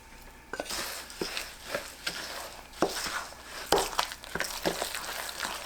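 Kimchi seasoning of chili powder, minced ginger, garlic, sea salt, grain syrup and rice paste being mixed by hand, giving soft wet squelching pats and stirs in an irregular rhythm, close and fairly quiet.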